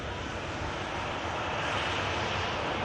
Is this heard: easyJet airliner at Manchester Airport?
yes